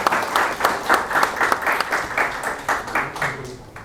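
Applause from a youth dialogue audience welcoming a panelist: a dense round of clapping, fairly close and steady, with a faint voice underneath.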